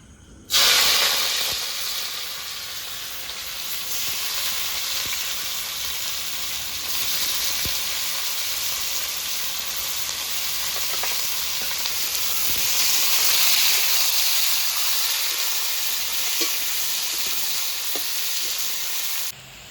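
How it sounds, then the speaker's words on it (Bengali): Sliced onions hit hot oil and sizzle loudly for beresta for a chicken dum biryani, a dense, steady frying hiss that swells and eases over about twenty seconds, close up with no talk. "তেল গরম হয়ে গেছে এবার বেরেস্তার জন্য পেঁয়াজটা ভেজে নেবো"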